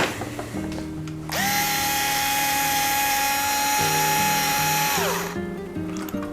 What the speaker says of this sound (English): I do like an electric screwdriver for these fine pitch threads.